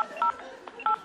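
Two short electronic keypad tones beep in quick succession on an automated phone service line, evenly spaced, clear and fairly quiet, with no talking.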